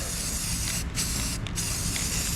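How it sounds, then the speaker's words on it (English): Steady, close hiss of an aerosol can spraying Rust-Oleum Rusty Metal Primer onto a fire-damaged Parker bench vise, with two short pauses where the nozzle is released before spraying resumes. "just get this thing all spray painted. Just get a primer on it."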